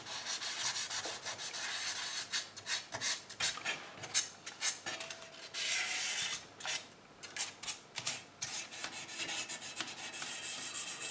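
Paint on a tin toy is lightly sanded by hand, making quick, close scratchy rubbing strokes in an irregular back-and-forth rhythm with short pauses between bursts.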